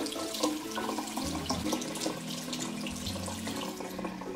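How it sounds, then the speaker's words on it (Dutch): A kitchen tap runs steadily while a makeup brush is rinsed under the stream, a continuous close splashing and gurgling with small shifts as the bristles pass through the water; no talking. "je doet het water gewoon aan en je spoelt eerst"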